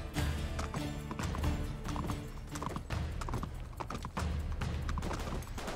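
Horse hooves gallop in a steady clip-clop rhythm during a mounted chase in the video game Uncharted 3: Drake's Deception, loud and continuous, mixed with game music and effects, with occasional whinnies.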